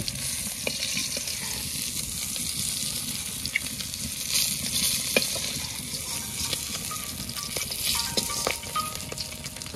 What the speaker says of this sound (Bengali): মাছগুলো সব ভালো করে ভেজে নিয়েছি।